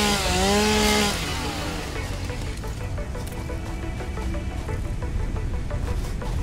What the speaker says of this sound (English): We have our chainsaw